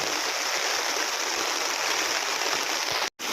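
A river stream flowing in a Philippine rural area, a loud steady broadband rush of water close to the microphone with no talking, cut by a brief dropout near the end.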